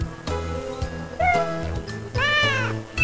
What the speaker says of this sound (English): You're such a sweet kitten.